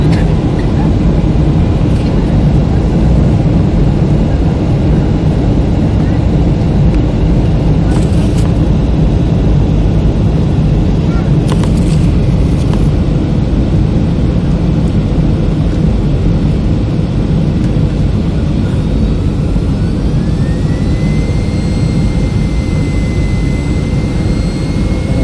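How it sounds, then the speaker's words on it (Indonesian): A steady, loud jet engine roar fills the cabin throughout as the airplane descends to land at Polonia airport in Medan, with a low rumble and a faint rising whine late on, no voices. "Saat mau mendarat di Polonia Medan masih di ketinggian 2000 kaki."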